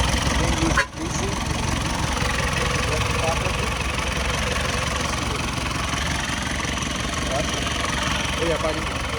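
An old high-mileage Ford car engine idles steadily and loudly up close, with a brief dip near the start and speech-like sounds mixed into the running noise.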